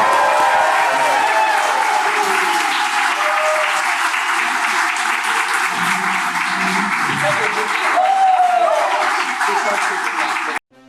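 Loud, sustained audience applause for the Star Wars: The Clone Wars cast at a Comic Con panel, a thick roar of clapping and crowd noise with a brief cheer near the end before it cuts off abruptly.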